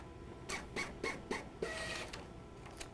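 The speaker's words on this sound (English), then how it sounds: "let's print a beautiful label with our brand new installed printer" An Epson ColorWorks CW-C6000 label printer prints a label. Several close, short mechanical whirring and feeding bursts follow one another, then a quieter tail, with no talking.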